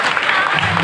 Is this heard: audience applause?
yes